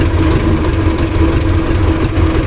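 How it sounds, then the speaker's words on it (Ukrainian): Tractor towing a Sipma 224 baler that has lost a wheel and runs on one wheel, a loud steady engine drone with low rumble and rattle, close and constant with no talk. "Їдемо так додому, прес на одному колесі."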